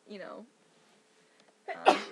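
A single sharp, fairly loud sneeze bursts out after a quiet pause, following a moment of talk.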